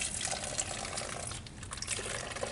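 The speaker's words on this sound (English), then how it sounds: "you're going to carefully pour it into your bottle rocket" Water pours steadily into a plastic bottle rocket, a continuous close trickling and gushing fill with no voices over it.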